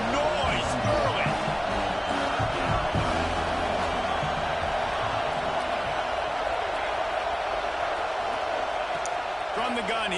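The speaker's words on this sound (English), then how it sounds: "This crowd bringing the energy and noise early" A college football stadium crowd roars steadily, a dense wash of cheering and shouting that holds at an even level throughout. A play-by-play commentator talks over it.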